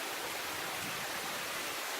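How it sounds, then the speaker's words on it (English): A stream in the Wye Valley rushes past, a dense, even, close roar of flowing water that holds steady throughout with no voices. "Next to this stream here."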